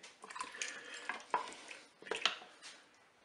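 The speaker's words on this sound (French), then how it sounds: "Maintenant je vais verser mon bouillon, donc composé de 200 ml d'eau, 200 ml de vin rouge et un cube de bouillon de bœuf émietté." Beef broth mixed with water and red wine and a crumbled stock cube is poured into a Cookeo cooker, giving soft splashing and light clinks of the pot in a few short bursts, fairly quiet.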